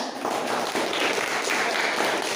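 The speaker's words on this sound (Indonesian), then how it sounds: "Oke, tepuk tangan dulu." Classroom applause from a group of students, a steady wash of clapping lasting a couple of seconds, moderately loud and continuous with no talking over it.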